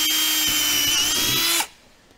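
A power drill whines steadily at high speed for about a second and a half, drilling through a ski skin on a 2023 Ski-Doo Expedition SWT snowmobile ski, then cuts off abruptly, leaving near silence.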